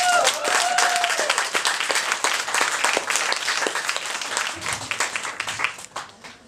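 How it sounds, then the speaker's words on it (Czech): An audience at a restaurant drag show claps in a lively burst of applause, strong at first and gradually thinning out to scattered claps. "Takže velký potlesk všem ženským"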